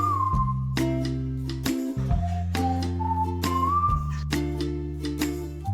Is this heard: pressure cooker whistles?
yes